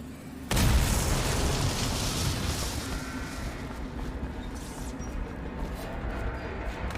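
An object being blown up, heard as a sudden loud explosion after half a second of quiet, followed by a long, broad roaring rumble that slowly fades but keeps sounding to the end.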